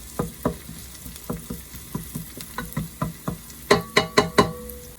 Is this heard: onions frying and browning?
yes